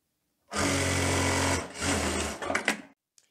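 A sewing machine stitches the lining of a teddy coat in two loud, steady close-up runs, the second ending in a few slower stitches before stopping.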